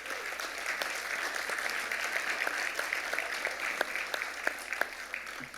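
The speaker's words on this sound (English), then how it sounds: "Please give yourselves another big round of applause." Sustained applause from a crowd at a college fundraising dinner, a dense wash of many hands clapping steadily throughout, with a few sharper claps standing out.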